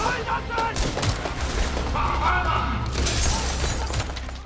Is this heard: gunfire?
yes